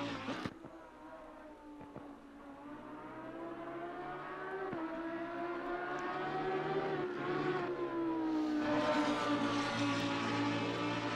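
A Lamborghini Huracan EVO2 GT3 race car in Assetto Corsa Competizione, lapping Laguna Seca: a steady, buzzing engine note rising and falling with throttle and shifts, heard alone at moderate level.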